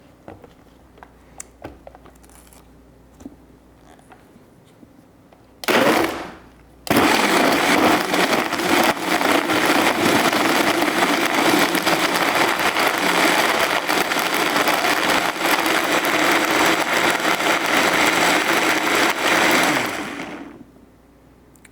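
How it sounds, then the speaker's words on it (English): A blender whirs loudly and steadily for about fourteen seconds, blending a mint chocolate chip smoothie made with coconut water, after a brief short pulse and some quiet handling clatter beforehand. "So we're gonna add this to a blender here."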